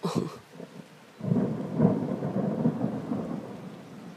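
Thunder from a strong multicell thunderstorm at Amboise rolls in close after a lightning flash, a deep rumble swelling and holding for several seconds over faint rain, with no voices.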